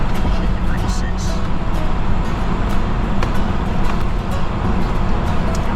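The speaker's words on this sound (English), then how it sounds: "You can hear the tires singing on the road because they're still aired down to 20 psi" Tires aired down to 20 psi for off-road use sing on pavement during a mountain drive, a steady droning road roar filling the cab continuously throughout, with a voice talking over it.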